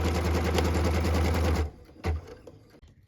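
An embroidery sewing machine stitches a cut line on fabric in a fast, rhythmic mechanical whir, close and loud, then stops, leaving a short thump and quiet handling noise.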